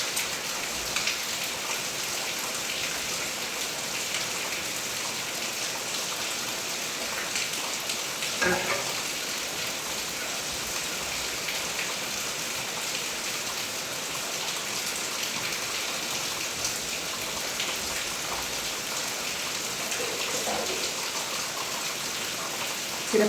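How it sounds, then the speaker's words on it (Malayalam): Heavy rain pouring without letup in rural Kerala, a dense, even hiss of drops on surfaces lasting throughout, with a faint thump midway and no talking. "ഭയങ്കര മഴയാണ് കൂട്ടുകാരെ, ഭയങ്കര മഴ"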